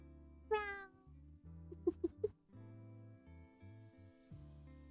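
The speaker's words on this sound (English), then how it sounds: "Cat sounds. Nothing new. The cat sounds." A cat gives one clear, close meow over soft background music, then a few shorter chirpy sounds follow as the music continues.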